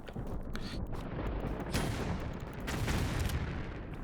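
Grenade launcher fire in Tomb Raider 4 pops off in a quick run of sharp blasts and rumbling booms over a dense, noisy game soundscape.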